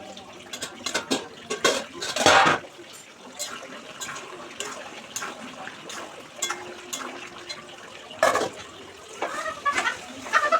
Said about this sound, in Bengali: এবার মাংসটা একটু নাড়াচাড়া করে দিই